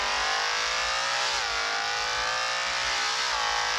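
A motorcycle engine revs loudly and continuously up close, its pitch dipping and climbing as the throttle changes.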